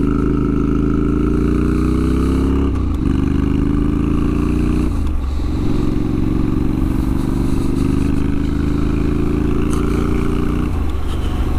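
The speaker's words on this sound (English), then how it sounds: "This is a very interesting motorcycle to ride" A Honda CTX motorcycle ridden on a clear day, its engine droning steadily with a couple of gear changes and rises in revs, close and loud throughout with no talking.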